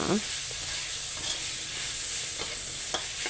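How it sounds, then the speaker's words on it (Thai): Minced beef with chillies and shallots stir-fries in a pan with a constant close sizzle, broken by occasional light clicks of a spatula against the metal. "ผัดไปเรื่อย ๆ"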